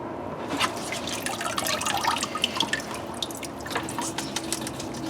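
A potted phalaenopsis orchid in moss sits dunked in a bucket of water, giving off close, quiet trickles, drips and small bubbling pops as air escapes the moss over several seconds.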